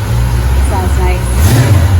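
A 1987 Ford Mustang Foxbody V8 with Flowmaster exhaust rumbles loud and close, with a quick rev near the middle, while people talk over it.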